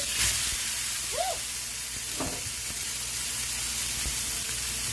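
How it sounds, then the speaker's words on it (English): A seasoned Angus chuck roast sears in a very hot pan, giving a steady, close, even sizzle and hiss throughout, with a few faint clinks. "You're not cooking the meat, you just want to sear it really well"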